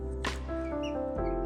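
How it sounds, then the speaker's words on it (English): Brooding chickens loose in a homestead workshop, giving a sharp short cluck followed by steadier tonal clucking and a second call near the end, close and fairly loud against a constant low hum. "These brooding chickens,"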